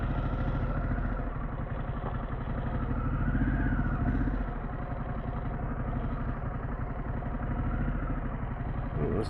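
Harley-Davidson Pan America adventure motorcycle fitted with a Vance & Hines exhaust, riding slowly through a parking lot: a loud, close, steady lumpy V-twin rumble with slight rises and dips in throttle, heard alone.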